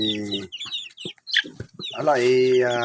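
A mixed-breed chicken, a cross of Rhode Island Red, Barred Plymouth Rock and Black Australorp, makes short close clucks, then gives one loud, drawn-out, rising-and-falling call near the end.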